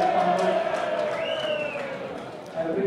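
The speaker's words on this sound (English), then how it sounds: "The Wanderers cheer for something." Wanderers rugby supporters cheering at a preliminary final against Merewether Carlton, a broad swell of distant crowd voices and whoops, steady and fairly loud, with a brief rising shout partway through.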